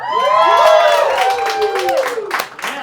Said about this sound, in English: It gets applause.